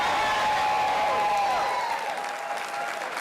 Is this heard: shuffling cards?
no